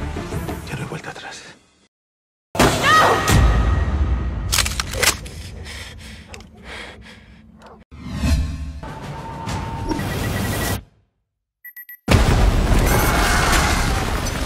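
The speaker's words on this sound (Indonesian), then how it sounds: "Palermo lalu meledakkan kaca-kaca bank, seakan-akan mereka diserang oleh kelompok teroris." Explosions shatter bank glass in a Money Heist heist scene. Several sudden loud booms and bursts are separated by short silent gaps, with narration in between.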